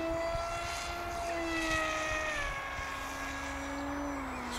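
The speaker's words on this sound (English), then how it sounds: "It's quite noisy as well, because this is the, obviously the pusher configuration." An AXN Floater Jet, a radio-controlled plane with a pusher propeller, flies by with a steady, fairly faint buzzing whine whose pitch slowly drifts as it moves through the air.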